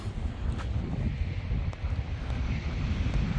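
Strong wind gusts in snowy, freezing weather, a steady low roar buffeting the microphone with slight surges and no voices.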